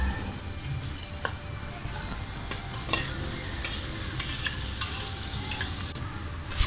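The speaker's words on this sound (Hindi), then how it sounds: "अब हम इसमें आधा कप ऑयल डालेंगे और इसमें एक बारीक बड़ा कटा हुआ प्याज लेंगे" Finely chopped onion fries in about half a cup of oil in a pot, giving a steady close sizzle with occasional stirring taps and scrapes and no talking.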